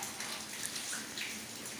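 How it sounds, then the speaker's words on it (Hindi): Rain falls steadily outside during the winter season, a soft, even hiss of drops with no talk over it. "वो आवाज़ें वर्षा की हैं। पानी बरस रहा है और आवाज़ें जो हैं आ रही हैं।"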